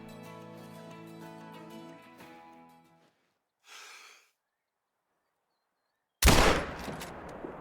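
.270 rifle fired at a deer in Call of the Wild: a sharp, loud single shot bursts out near the end after quiet, preceded by a soft music tone and a brief breathy rustle.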